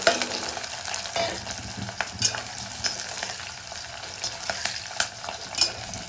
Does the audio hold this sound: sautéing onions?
yes